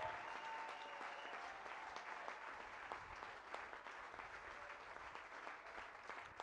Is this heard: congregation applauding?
yes